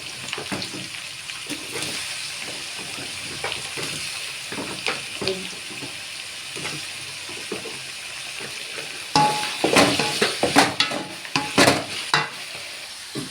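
Paneer with chopped beans and carrots frying in a pan for a vegetable paneer gravy makes a continuous sizzle broken by repeated spoon scrapes and stirs, busier and louder toward the end, with no speech.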